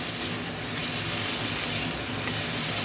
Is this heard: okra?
yes